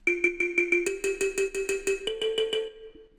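An FL Studio kalimba lead with added effects plucks a steady run of about sixteen bright, metallic notes, the pitch stepping upward partway through, played alone and up front before ringing out.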